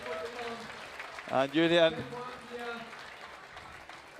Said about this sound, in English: The people, the whole town goes crazy.